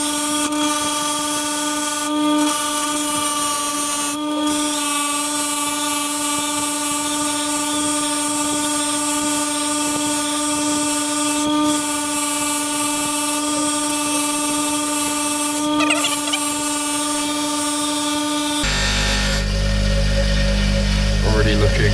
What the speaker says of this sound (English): Scotch-Brite wheel, spindle, not the cleanest spindle in the world.